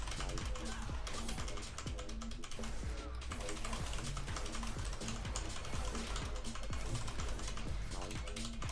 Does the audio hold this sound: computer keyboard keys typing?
yes